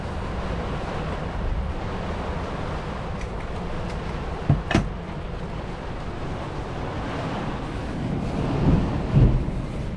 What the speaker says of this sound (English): the rain's getting heavier, which means we're getting deeper into the thunderstorm belt